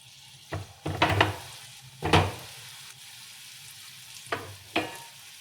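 Hot oil sizzles and bubbles in bursts as pieces of vada batter drop in, a few sharp splashes over a quiet steady frying hiss.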